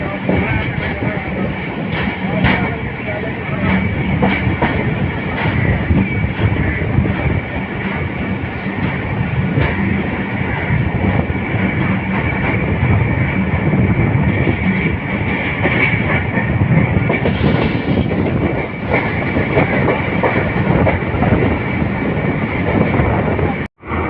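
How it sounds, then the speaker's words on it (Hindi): The Tezgam Express passenger train, hauled by a GE locomotive, crosses a junction at low speed, a loud steady rumble close by with rhythmic wheel clatter over points running throughout. "जंक्शन से क्रॉस हो रहे हैं लो स्पीड में।"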